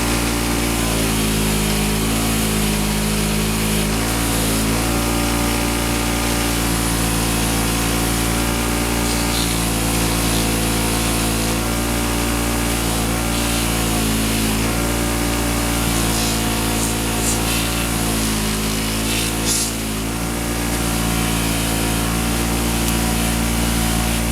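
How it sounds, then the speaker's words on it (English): A wire wheel spins steadily while cleaning the threads of an oil pan bolt from a 1982 Suzuki GS1100E motorcycle, a loud continuous motor whine with grinding texture running throughout without pause. "get the wire wheel down into the thread so that the Loctite gets a better grip"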